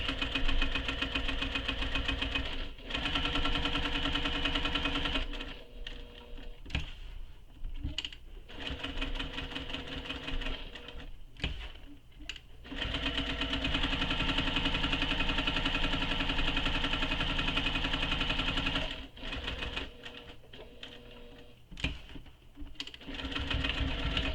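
Domestic sewing machine stitching fabric panels for a convertible tote bag, a steady motorized whir with short pauses and restarts, run in long bursts at close range with no talking.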